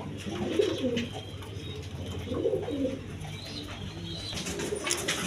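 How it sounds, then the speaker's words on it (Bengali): A breeding pair of coloured Gorra pigeons, a male and a female, coo in low, throaty bursts repeated several times, close and moderately loud, over steady background noise. "বন্ধুগণ এখানে এক পেয়ার গররা কবুতর,"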